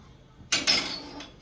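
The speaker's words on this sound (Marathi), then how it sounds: "असा तवा ठेवायचा" A metal tawa griddle set down on a home kitchen stove before roasting coriander seeds, giving two close, sharp clanks in quick succession followed by a faint ringing tail and a softer knock.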